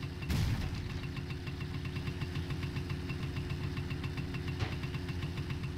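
A motorcycle engine idles in the My Summer Car video game, a steady, moderately quiet low rumble with a faint rapid ticking throughout and a brief knock near the start.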